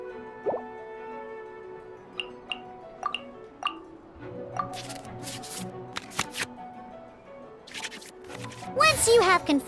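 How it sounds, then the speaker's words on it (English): Cards from a Genshin Impact card game hand are shuffled back into the draw pile, heard as a string of short crisp card taps and flicks among soft game chimes, ending in a denser rustling burst near the end. "we can select any number of cards in our hand to shuffle back into the draw pile"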